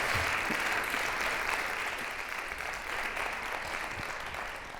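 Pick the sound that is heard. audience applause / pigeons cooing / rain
audience applause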